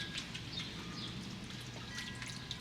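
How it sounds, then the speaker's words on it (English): Soft, continuous trickling and dripping water from a small garden fountain, faint and steady, heard from a deck outdoors. "You can hear the fountain"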